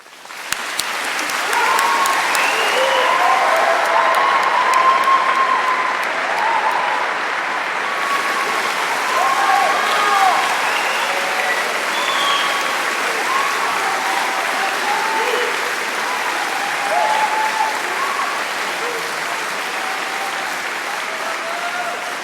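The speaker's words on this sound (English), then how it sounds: "deserves to be acknowledged by a round of applause." Sustained, dense applause from a large crowd at a university graduation ceremony, steady and loud throughout with no pauses.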